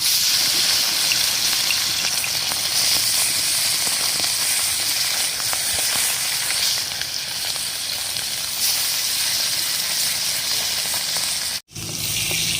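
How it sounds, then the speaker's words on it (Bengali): Fish frying in hot mustard oil in a wok gives a steady, loud, close sizzle with crackling spatter that runs unbroken, apart from one sharp momentary drop near the end. "তেল গরম হয়ে গেছে এবার আমি মাছটা ভেজে নেব"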